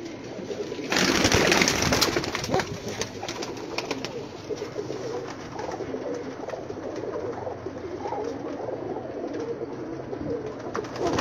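Pigeons kept on a rooftop coo steadily at close range, one loud burst of wing flapping or scuffle early on, with a continuous murmur of cooing and rustling throughout.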